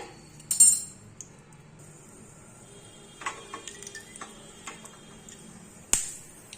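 A few peppercorns pop and splutter in hot ghee in a pan, scattered sharp clicks and crackles against near silence, with one louder snap near the start and another near the end.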